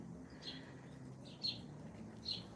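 Small sparrows feeding at a backyard log cabin give three faint, brief chirps spaced about a second apart over a quiet outdoor background.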